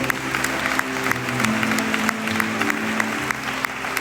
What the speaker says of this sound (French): je vais encore vous demander d'applaudir très fort Sébastien Jacot